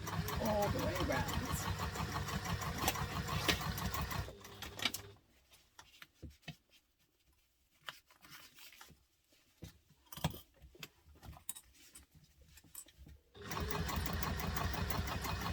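A sewing machine at 5.5 stitch length runs around the edge of a bowler bag, binding soft ripstop fabric to foam in two long, steady bursts separated by a quieter pause with handling noises.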